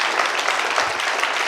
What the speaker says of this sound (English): How about a real round of applause for these amazing people?